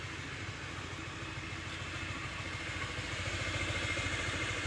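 A used motorcycle engine idles steadily nearby with a smooth, even putter and faint mechanical clatter, running alone without talk for the whole stretch.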